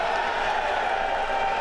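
A dense, steady roar of crowd applause mixed with chanted slogans fills a Pakistan Muslim League (N) party meeting as Nawaz Sharif becomes party president; the noise is loud and unbroken.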